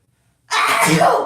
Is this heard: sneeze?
yes